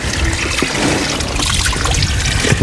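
Water trickles and splashes from a mountain spring fountain near Botev Peak, a close, steady, bubbling flow with no voices over it.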